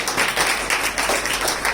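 Church congregation clapping hands together during Sunday Kannada worship, a steady run of dense, roomy applause-like claps with no talk heard.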